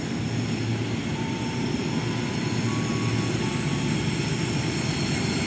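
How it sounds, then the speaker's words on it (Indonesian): An Argo Muria passenger train passes on track 3 of a double-double track near Jatinegara–Manggarai, giving a steady, loud rumble of wheels on rail with a faint squeal, heard close and unbroken throughout. "Jalur 3 dari barat segera melintas kereta Argo Muria."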